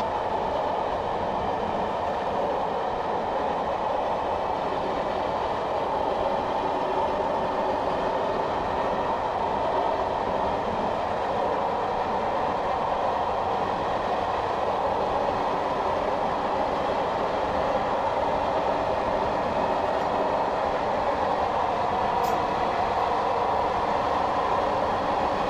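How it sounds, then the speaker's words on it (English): A Class 421 electric multiple unit coasts along the Tonbridge to Hastings line in Train Simulator 2018, giving a steady, continuous rail rumble with faint rhythmic wheel clatter throughout and no voices. "So I'm just idling the power here to allow the train to coast."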